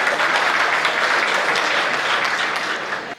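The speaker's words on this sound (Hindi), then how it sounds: "तो ताली कौन बजाएगा?" Dense, loud applause from a crowd at a Hindi poetry event, a steady wash of many hands clapping together before trailing off at the end.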